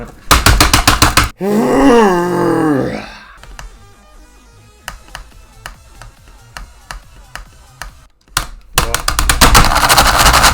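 Frantic mashing of a computer keyboard during an Extreme Demon level of the game Geometry Dash, rapid dense bursts of clacking at the start and end, with a loud groaning vocal outburst and sparser key taps between.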